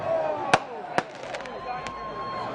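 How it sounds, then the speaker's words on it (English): Firecrackers set off by a cheering crowd at a Minneapolis street protest outside a burning police precinct: two sharp, loud bangs close together, followed by fainter pops, over a steady crowd murmur. "Crowds cheered and set off firecrackers."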